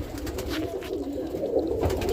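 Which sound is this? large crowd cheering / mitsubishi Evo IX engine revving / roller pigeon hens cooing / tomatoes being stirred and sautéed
roller pigeon hens cooing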